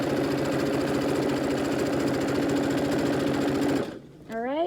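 Sewing machine stitching a fabric face mask, a steady rapid mechanical whir with fine rhythmic needle ticks for nearly four seconds, then it stops and a brief voice-like tone follows.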